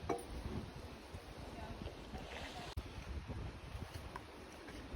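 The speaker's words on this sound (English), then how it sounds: "Maybe because it's so windy." Strong gusty wind blows through an outdoor forest setting near Sedona, Arizona, a steady rushing roar with buffeting bursts and rumble against the microphone throughout.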